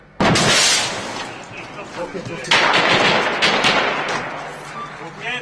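Heavy gunfire crackles during a clash that follows a rocket attack in a police special operations firefight, with loud close bursts of automatic fire and single shots in two main volleys, and agitated voices shouting over them.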